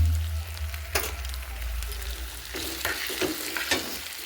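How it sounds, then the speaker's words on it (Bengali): Chopped tomatoes with a little salt sizzle steadily in a hot pan while a utensil scrapes and stirs them several times, close and clear, with no talking. "এটা একটু ভেজে নিচ্ছি"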